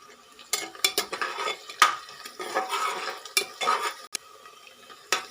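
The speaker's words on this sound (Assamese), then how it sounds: "এনেদৰে লৰাই থাকিব।" A spoon stirring cashews, raisins and a bay leaf in a pot for pulao, with repeated close scrapes and knocks of metal against the pot over a soft sizzle.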